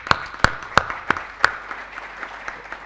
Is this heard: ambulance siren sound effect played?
no